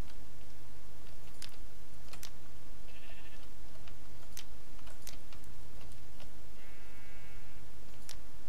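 Sheep bleating in a video game: two short, clear electronic bleats about four seconds apart, over a steady low hum and scattered sharp clicks and ticks, with no talking.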